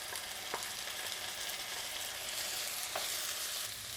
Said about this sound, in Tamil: 2 தக்காளியை நல்லா பொடி பொடியாக நறுக்கி வச்சுருக்கேன், அதை சேர்த்து வதக்கிடலாம்